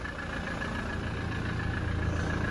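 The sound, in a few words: Toyota Hilux SR5 engine idling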